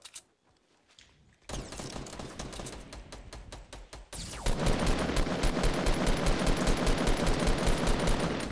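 Rapid automatic gunfire in Fortnite starts after a quiet second, rattling in fast regular bursts, then grows louder and denser as a second weapon joins. It stays close and continuous with no talking.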